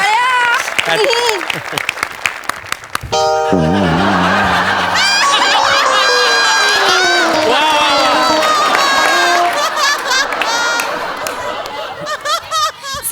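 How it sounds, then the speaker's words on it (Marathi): An audience at a Marathi comedy show's poetry segment breaks into loud, sustained applause mixed with laughter and cheers, while someone speaks over it before the clapping thins out at the end. "जोरदार टाळ्या."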